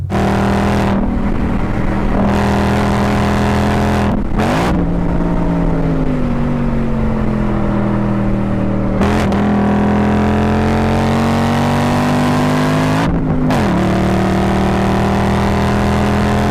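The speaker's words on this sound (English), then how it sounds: "let's play a clip of a Mustang GT that I've driven, the PP2, on Button Willow Raceway" A Ford Mustang GT PP2 engine on Buttonwillow Raceway, droning at a steady high pitch, dipping briefly between gear shifts then climbing again, loud and continuous with no talking.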